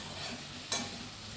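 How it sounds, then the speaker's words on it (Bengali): Potatoes being stir-fried with spices for aloo dum, a steady broadband sizzle with one brief louder scrape of the spatula partway through, no voices. "খুব ভালো করে মশলার সঙ্গে আলু আমি কষিয়ে নিচ্ছি"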